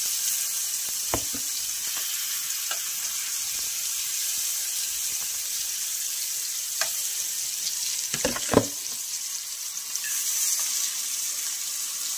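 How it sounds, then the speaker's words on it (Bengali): Masala-coated pomfret fish frying in a pan, a steady close sizzle throughout with a few sharper clinks and stirring sounds near the middle and end, no voices. "মাছগুলো আমি ভালো করে ভেজে নেব।"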